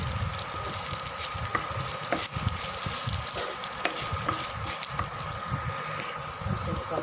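Coriander seeds and dried red chillies fry in oil with a steady, crackling sizzle, interrupted by occasional soft scrapes and knocks of stirring, close and continuous.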